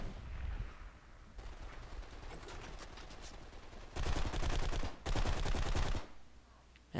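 Gunfire in the shooter game Blacksite: Area 51, starting as a steady background rattle of automatic shots and then swelling into two loud, dense bursts of rapid fire near the end.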